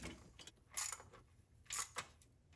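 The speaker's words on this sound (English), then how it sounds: "just gradually tightening these down, kind of crisscrossing as I go" A ratchet wrench tightening valve cover bolts in a crisscross pattern on a 1985 Chevy Caprice Classic, a few short close clicking bursts separated by pauses, alone without talk.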